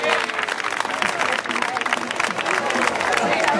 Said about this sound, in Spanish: Ese aplauso para Miguel, que si no se cabrea.